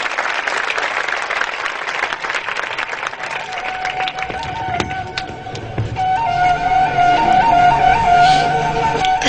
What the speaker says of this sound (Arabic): صفقوا للمهدي